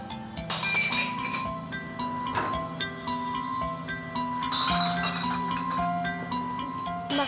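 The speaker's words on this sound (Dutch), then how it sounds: "Karton of glas moet in de andere bak." Glass bottles and jars clink and knock against each other as they are dropped one after another into a recycling bin, a steady run of bright ringing clatters with no talk.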